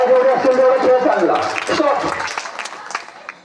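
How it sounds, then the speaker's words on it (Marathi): Clapping from an audience at a Khel Paithanicha (Home Minister) game show run by the Vaibhav Ganesh Mitra Mandal, mixed with a loud voice and tonal sound at first, then scattered claps that thin out. "टाळ्या जोरदार डाळ्या पाहिजे"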